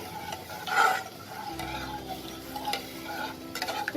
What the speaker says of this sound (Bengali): এবার এতে আমি অল্প জল দেব, দিয়ে ভালো করে মিশিয়ে দেবো